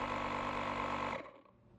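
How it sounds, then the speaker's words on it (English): LokiThor JA300 portable air compressor inflating a tire, a loud steady buzzing drone that cuts off abruptly after about a second as it shuts down. "the compressor will automatically turn off once it reaches the preset PSI number"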